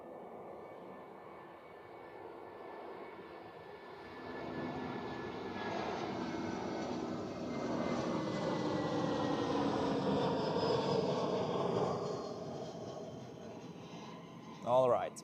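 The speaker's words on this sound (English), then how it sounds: "Nice touchdown, beautiful." A Lufthansa airliner lands on runway 14 at Zurich Airport, its broad engine roar swelling steadily over several seconds and staying fairly loud at a distance, with a brief sharper burst near the end.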